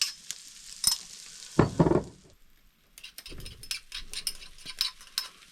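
Cumin seeds and chilli ingredients frying in a pan, bursts of crackling sizzle with stirring scrapes and a few light clinks, broken by a short quiet pause, close and unvoiced.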